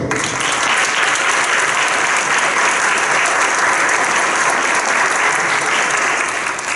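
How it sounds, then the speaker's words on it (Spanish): Loud, sustained audience applause fills a panel event on environmental justice in Puerto Rico, continuing steadily throughout without a break. "Un aplauso por favor."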